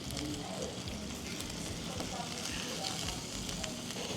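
Chicken sizzles and fries with a constant, even hiss, heard at moderate volume while someone speaks softly over the cooking.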